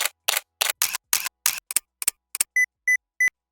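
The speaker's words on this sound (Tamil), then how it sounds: "அடிஷ்னலாக 4 ஷட்டர் சவுண்டையும் இன்க்ளூட் பண்ணியிருக்காங்க." A run of crisp camera shutter clicks from a Nikon Z9, about nine in a row, then three short electronic beeps.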